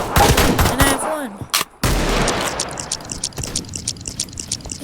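Several sharp gunshots from a Guycot chain pistol in The Wild West video game ring out in a quick volley, loud and close, followed by scattered lighter shots and clicks.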